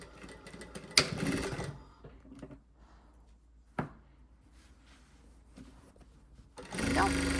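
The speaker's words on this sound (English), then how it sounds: "And then I'm going to sew that down using my 1/2 inch seam allowance." A sewing machine runs a seam on a small fabric shopping bag, two or three short bursts of rapid mechanical stitching nearby, separated by quiet pauses.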